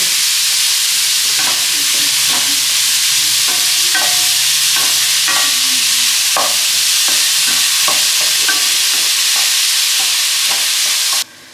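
Grated beetroot frying in hot oil with salt in a pan, a steady close sizzle broken by repeated scraping and clattering stirs of a spoon, ending abruptly.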